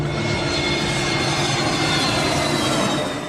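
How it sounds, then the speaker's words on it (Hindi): An airplane races down a runway at Mumbai airport and takes off, a loud continuous jet engine roar that holds steady and close for a few seconds with no voices. "मुंबई के हवाई अड्डे से विमान रनवे पर दौड़ता हुआ उड़ान भरता है।"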